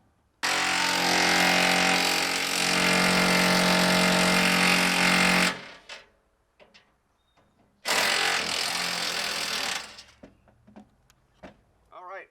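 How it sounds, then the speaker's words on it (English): A power tool removes 14 millimeter bolts from RV camper entry steps: two loud sustained whirring bursts, about five seconds and two seconds long, separated by a quiet gap with small clanks. "Taking out the 14 millimeter bolts."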